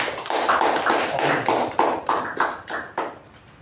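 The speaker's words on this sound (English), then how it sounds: "Let's give a round of applause for that." A small audience claps at a Toastmasters club meeting, a brisk spell of hand claps with distinct taps standing out, close and moderately loud, tapering off near the end.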